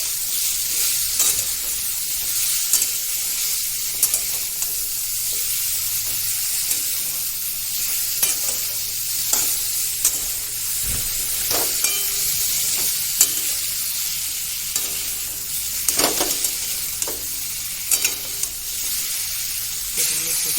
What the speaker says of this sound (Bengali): এরপর এগুলোকে ভালোভাবে নেড়ে চেড়ে ভেজে নিতে হবে।